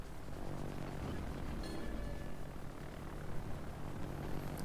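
Propeller fighter planes drone steadily overhead in a World of Warships naval battle, a continuous broad engine roar holding at a fairly even level throughout, with no voices.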